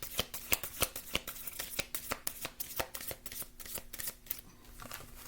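Tarot cards shuffled at a quiet, close reading table, giving a steady run of soft riffling and sharp slaps and taps of cards falling into place, with no one speaking.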